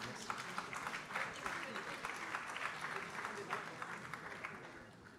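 Applause from the Breton crowd at a Democrat party gathering in Guidel, a distant, fairly faint patter of many hands under a murmur of voices, steady for several seconds.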